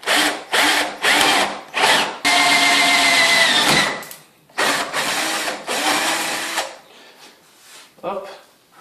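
A power drill with a 10 mm bit bores holes in the corners of a kitchen cutout in repeated loud bursts, short whirs followed by one long sustained run, then more stops and starts that fade at the end.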